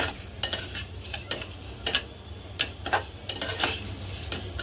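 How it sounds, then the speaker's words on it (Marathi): Broken wheat (dalia) roasting in ghee in a pan, with a steady low sizzle and repeated scraping stirs of a spoon against the metal, close and fairly loud, no talking. "आणि याला मस्त असा तुपावर भाजून घ्यायचा।"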